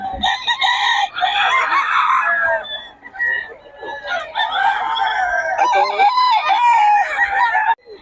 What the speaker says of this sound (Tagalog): Gaganda ng manok, oh.